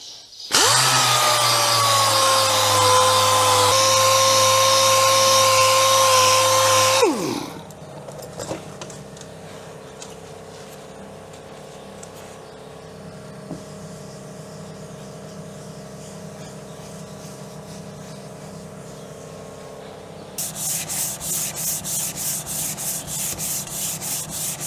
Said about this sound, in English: let's get the orbital sander and then we'll get more filler